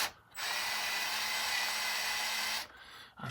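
A power drill whirs steadily into a rifle stock for about two seconds, close and loud, with a faint low hum under the high whine and silence before and after.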